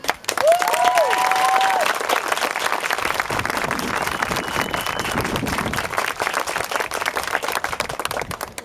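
Sustained crowd applause at a Relay for Life opening ceremony in 2012, a thick, even patter of many hands clapping that carries on for several seconds, with a brief tonal whine near the start.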